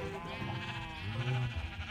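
Sheep bleating inside the Minecraft video game, colored sheep in a survival world; a few short, wavering bleats sound fairly quietly over a low game background.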